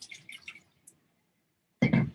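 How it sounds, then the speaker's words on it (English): Water drips and splashes as a paper towel is dipped in water to wrap freshly cut clay tiles; a faint patter comes first, then a short, louder wet burst at the end. "dip it in the water."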